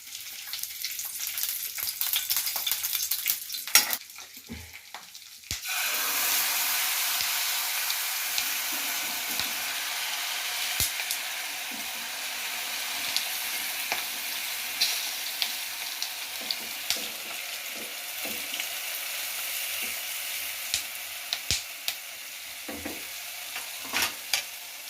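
Peanuts fried in oil in a pan for chutney: a short stretch of stirring, then a steady bright sizzle with scattered pops and clicks of a spoon against the pan, close and continuous.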